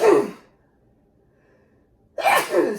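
Two sharp, close sneezes, one at the start and one near the end, separated by near silence, during a seafood boil mukbang meal.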